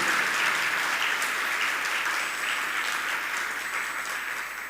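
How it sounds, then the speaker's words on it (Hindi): An audience claps steadily at a Jain monk's discourse, a dense, continuous wash of many hands held at an even level for several seconds, with no voices over it. "बजाओ अपने भाग्य पर ताली।"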